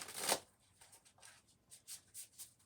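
A deck of cards being shuffled, an opening riffle followed by softer, irregular slides and flicks of cards, close but quiet, with no speech.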